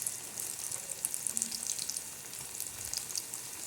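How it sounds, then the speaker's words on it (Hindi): Mini flower-shaped samosas fry in hot oil over a medium flame, giving a steady, close crackling sizzle with fine bubbling spits throughout and no voices. "तेल हमने पहले चढ़ा दिया था, तेल ऑयल गरम है हमारा। अब इसको फ्राई कर लेते हैं।"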